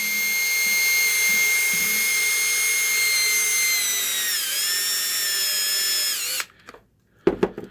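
A power drill bores a hole for a small DIY overflow fitting, giving a steady, close, high whine for about six seconds that dips in pitch partway through. It then stops, followed by a few short knocks.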